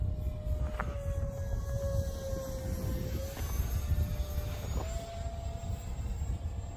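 A model A-4 Skyhawk plane with a 3-E-Sun .48 engine flies at about three-quarter throttle, a steady buzzing whine that shifts pitch as it passes, heard from the ground.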